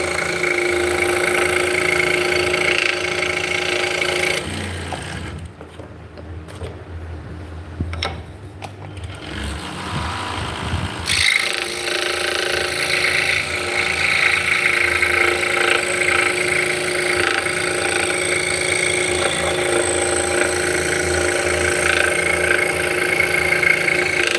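A scroll saw buzzes steadily as it cuts wood, a continuous mechanical hum that quiets briefly partway through before resuming at full volume.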